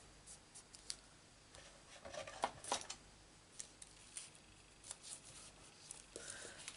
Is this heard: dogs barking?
no